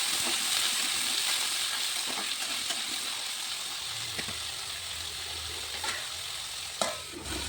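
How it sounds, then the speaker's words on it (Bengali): Potatoes fry in hot oil with panch phoron in a pan, giving a steady close sizzle and hiss with occasional stirring scrapes and small pops throughout. "আলুটাও ছেড়ে দিলাম তেলের মধ্যে।"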